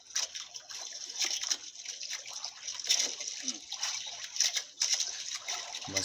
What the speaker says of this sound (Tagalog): Yung agos. Malakas.